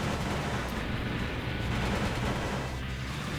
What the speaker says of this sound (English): Oh my god, those are some big cannons.